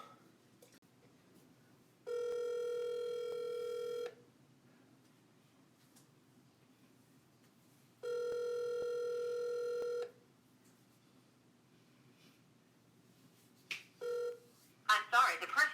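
Telephone ringback tones from an outgoing call, two long repeating rings spaced apart, followed by a few brief clicks and beeps as the line connects toward voicemail.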